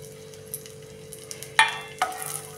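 Sliced almonds, cashews and raisins stirred in melted ghee over a low flame give a faint, steady sizzle. A few sharper scrapes and clinks of the spoon against the pan stand out.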